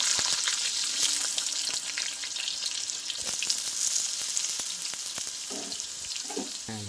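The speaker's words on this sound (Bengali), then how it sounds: "এবার তেলের ওপরে আমি আলুগুলো দিয়ে ভেজে নেব।" Potatoes frying in hot oil in a home kitchen, a loud, dense, steady sizzle with light scraping and stirring knocks, heard alone with no voices.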